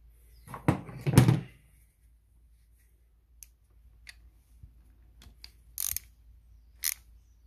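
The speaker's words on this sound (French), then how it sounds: "La clé et je resserre." A wrench tightens an injector screw on a Clio 2 1.5 dCi engine: a burst of metallic clicks and scrapes, then sparse single ticks and short ratcheting clacks spaced out over several seconds, close and quiet.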